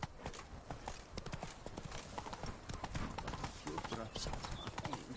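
The horse Roach in The Witcher 3 clip-clops in a dense, continuous run of hoof beats, close and steady, with a voice speaking over it.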